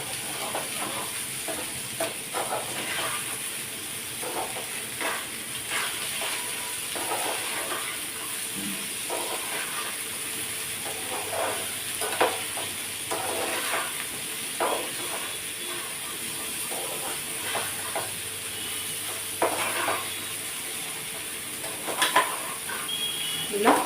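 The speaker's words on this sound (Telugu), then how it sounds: "ఉప్పు అంతా కలిసేలాగా మళ్ళీ బాగా కలుపుకోవాలి." Okra (bendakaya) fries in a pan with salt while being stirred, a soft continuous sizzle and hiss broken by scattered scraping stirs, moderately close and steady throughout.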